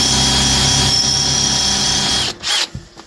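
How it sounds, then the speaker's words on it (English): A power drill grinds steadily with its bit into a Range Rover L322 part, loud and close with a high whining pitch, then stops abruptly and leaves a few brief rattles. "let the drill bit do the work, but this is taking forever"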